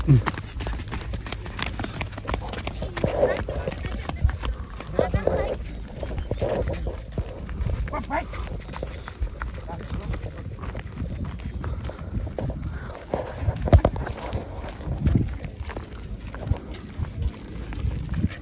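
Bullocks pull carts at a bullock cart race, their hooves clattering in a rapid, irregular run amid outdoor rumble, while people talk and shout nearby.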